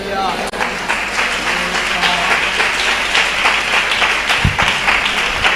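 A church congregation at a Tamil Christian service claps hands together in a loud, sustained burst of dense applause with a faint murmur of voices mixed in, steady for several seconds.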